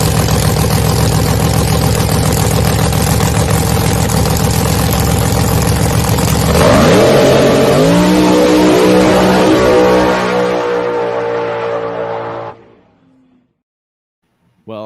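A new no-prep drag race car blasts off on a test hit, its engine roaring loud and steady for about twelve seconds before the note drops and the sound cuts off abruptly, with no one talking over it.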